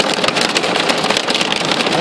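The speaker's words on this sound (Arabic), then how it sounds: "شوف البرد" A hailstorm pelting down around a car, with a loud, dense, continuous hiss and rattle of hailstones striking surfaces and no let-up across the whole stretch.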